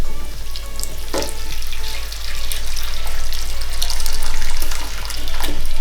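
Beef hitting softened onions, tomato and masala in a hot pan for a south Indian beef curry gives a steady, fairly loud sizzle and frying hiss, close and continuous, with a few sharper crackles and no talking.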